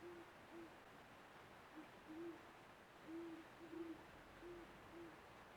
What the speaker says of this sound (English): So I'm sure you can hear the owls in the tree just out back here.